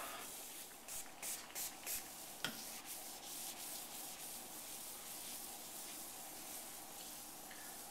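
A tool scrapes sealer residue off a granite countertop in short rhythmic rubbing strokes with one sharp click, then settles into a faint continuous hiss, quiet and close.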